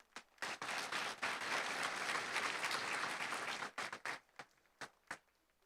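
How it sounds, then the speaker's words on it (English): Audience applause at an elementary school awards ceremony, a sustained wash of clapping from a large crowd that tapers off into scattered individual claps near the end. "So once again, give yourselves a great round of applause."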